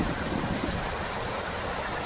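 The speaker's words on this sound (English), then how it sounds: "I'd much rather listen to the sound of the river than the traffic on the other side" A river flows through woodland in cold, wintry weather, a steady broadband rush of water that stays even and continuous throughout with no voices.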